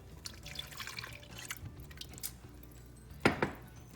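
Creamy sauce mixture for scalloped potatoes poured into a bowl, with soft wet drips and splashes, a few clinks, and a louder splash near the end, quiet and close.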